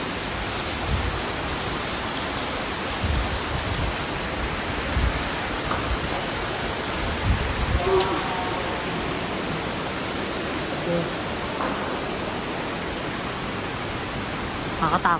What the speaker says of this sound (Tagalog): Ang ingay lang ng tubig.